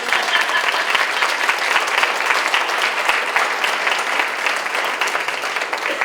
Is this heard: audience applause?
yes